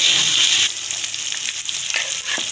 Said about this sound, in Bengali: টমেটোও দিয়ে দিলাম মশলাটা কষাতে একটু টাইম লাগবে